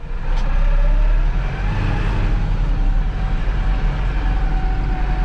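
Massey Ferguson 3708 S Efficient orchard tractor driving through an orchard, a steady loud engine drone with a rising whine, continuous and close with no talk.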